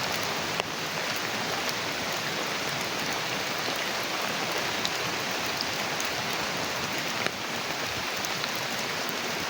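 Heavy rain pours down outdoors in the forest, a loud, dense, continuous hiss of drops drumming on surfaces, steady and close with no voices heard.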